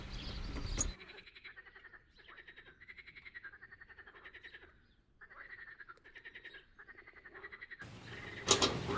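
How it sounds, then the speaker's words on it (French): Frogs croaking at a garden pond, a chorus of raspy, pulsing croaks repeating in bursts and overlapping one another, heard fairly close, with louder noise at the very start and end. "on approche d'une mare. Ouais, rempli de grenouilles et de tritons."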